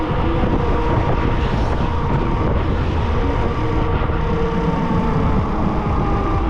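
Strong wind roars across a coastal road near Yalta in February, buffeting the microphone of a moving electric bike with a loud, steady broadband rush that never lets up.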